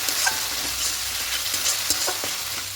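Rohu fish masala fries in a pan with a little sugar, a steady sizzle broken by several sharp scrapes and clinks of a spoon stirring close by, with no voices.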